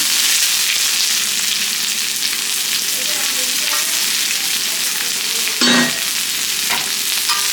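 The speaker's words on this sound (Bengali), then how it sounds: "এটা ভালো করে ভেজে নিই। আমরা পেঁয়াজটা হালকা করে ভেজে নিলাম।" Chopped onions fry with cumin in a hot pan for a tawa chicken dish, giving a loud, continuous sizzle. A spatula stirs and scrapes now and then, with one sharper clatter near the end, and no one talks.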